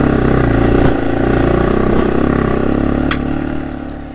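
A motorcycle engine drones loud and close with slight rises and dips in revs as the clutch is feathered, steady throughout with no talking.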